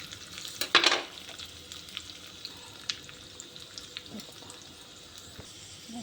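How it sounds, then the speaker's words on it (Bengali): Vegetable curry frying in oil until reddened, a soft continuous sizzle at low volume, broken by one sharp bright burst near the start and a few scattered light clicks of stirring. "বন্ধুরা ভালো করে আমি ভেজে নেব। লাল করে ভেজে নেব আমি।"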